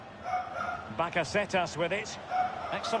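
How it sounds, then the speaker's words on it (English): A dog barks a few times in a room, faint and under an excited commentator's voice over FIFA 21 game sounds and crowd noise. "Why is that dog barking?"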